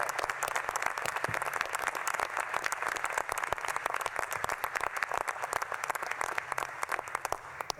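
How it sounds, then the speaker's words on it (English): A crowd at the US Space and Rocket Center in Huntsville applauds a vice-presidential speech, dense continuous clapping from many hands at an even level with no talk over it. "Let's give them all a round of applause."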